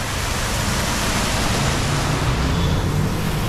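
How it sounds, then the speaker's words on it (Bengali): Water fountain in a park in Tbilisi, a loud, constant broadband rush of falling water that fills the whole moment without pause, no talking over it. "একটা ঝর্ণা দেখুন"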